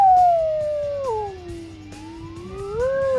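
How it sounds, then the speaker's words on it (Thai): An ambulance siren wails in a long, drawn-out tone that slides down and then climbs again, loud and steady with no voices. "ได้ยินเสียงรถโรงพยาบาล เสียงหวอ"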